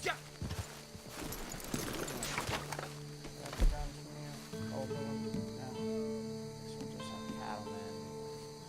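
Horse hooves clip-clop at a walk in Red Dead Online, a light, steady thudding under game music and ambient tones, with someone talking over parts of it.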